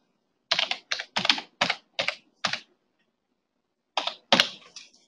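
A password being typed on a computer keyboard: several quick, close bursts of key clicks, a pause, then a few more keystrokes, with no voices.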